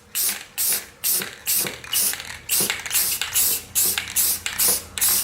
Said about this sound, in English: we're going to spray these with a bit of clear coat from the can